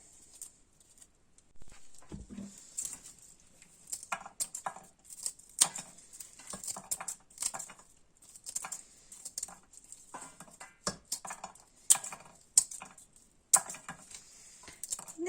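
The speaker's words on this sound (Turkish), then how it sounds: "Şimdi onları makasla kesip" Repeated short crisp snips and clicks, closely miked, coming in an irregular rhythm with brief pauses, as scissors cut through tough dry dandelion roots.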